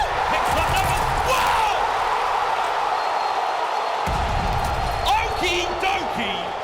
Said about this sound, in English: I love an energetic crowd like that